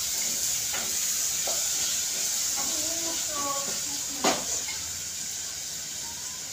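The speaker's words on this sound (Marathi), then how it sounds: "टोमॅटो आपल्याला नरम कसं करायचं नाहीये, पण त्याला थोडंसं परतून घ्यायचंय" Chopped tomatoes sautéing in a pan for vegetable pulao, a steady broad sizzle and hiss at low heat with a few faint stirring scrapes and one brief knock near the end.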